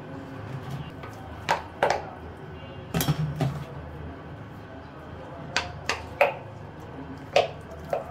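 Grated bottle gourd is squeezed by hand to press out its water, giving scattered wet squelches and sharp drips, some in quick pairs, over a quiet background.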